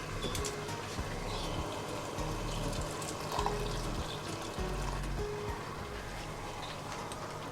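A glass of water is poured into a pan of cooked minced meat with green chilies, a steady running splash and trickle that continues evenly, fairly quiet and with no one talking.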